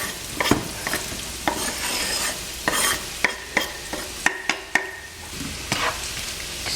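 Vegetables for scrambled tofu sizzle in a pan over just-below-medium heat, a continuous hiss broken by a regular series of sharp utensil knocks and scrapes as they are stirred, close and fairly loud.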